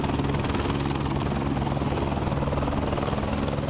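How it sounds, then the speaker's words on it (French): A helicopter flies overhead on a beaver survey flight in the Eeyou Istchee region of northern Quebec, its steady rotor thump and engine whine loud and continuous throughout, with no other sounds breaking through. "Moses est à bord de cet hélicoptère"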